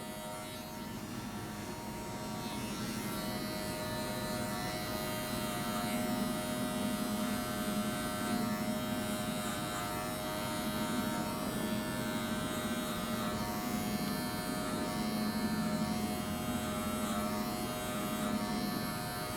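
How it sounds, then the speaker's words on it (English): A hair clipper buzzes steadily and continuously during a combover haircut blend, a fairly quiet, even electric hum with no talking. "Notice how my clipper goes right up."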